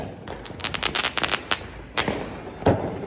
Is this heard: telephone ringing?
no